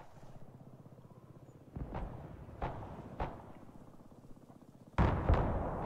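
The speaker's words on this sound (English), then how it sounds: "I'm dropping artillery on it now" Artillery fire in the Broken Arrow war game booms several times in spaced, heavy blasts over a steady rumbling background, ending in a louder close impact with crackling debris.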